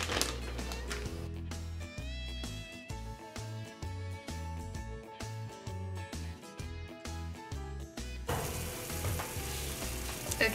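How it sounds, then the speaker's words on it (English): Bacon sizzles and crackles in a pan, with occasional taps and stirring clatter over the steady frying hiss. "I got my bacon going in the pan."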